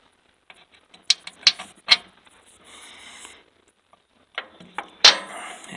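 A hand ratchet tightens bolts on the pulley of a Sovema EM 272 finish mower, giving sharp metallic clicks in short bursts with brief pauses, close and fairly loud, with no talking.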